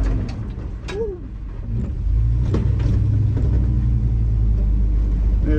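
An LS-swapped Ford F150 with no brakes and a one-wheel-drive axle revs hard from a standstill, its engine rising into a deep, loud, sustained rumble while trying to spin the wheel.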